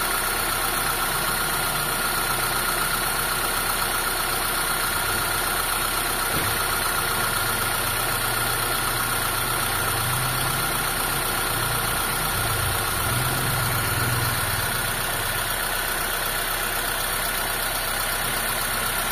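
A Mitsubishi Lancer's carbureted engine idles steadily and continuously during carburetor tuning, a constant close drone with a faint rising hum in the middle and no talk.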